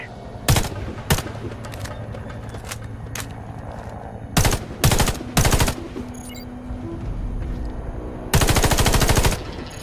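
Rifle fire in the Warface video game at training targets, with bursts of sharp, loud shots spaced across the clip and a longer sustained volley near the end, alone without talk.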